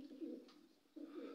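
Pigeons cooing on a small home farm or mini zoo: two soft, low throaty coos separated by a brief pause, faint and close, with no talking.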